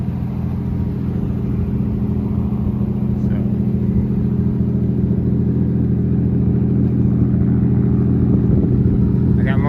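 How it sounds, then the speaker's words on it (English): Turbocharged 2.5 L 1JZ engine of a 1995 Toyota JZX100 Chaser, right-hand-drive Japanese import, idling with a steady, loud low rumble throughout, close by and continuous. "So this is my JZX 100 chaser. It's a 1995, imported from Japan. Right-hand drive, 1JZ,"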